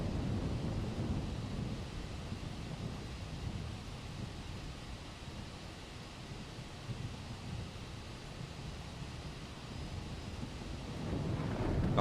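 A thunderstorm rumbles in a flight simulator video game during Airbus A319 operations. The low roar is continuous and heavy, and it swells louder near the end.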